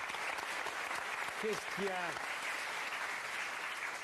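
TV talk-show studio audience applause, a continuous bed of clapping heard at some distance, with a brief spoken interjection over it.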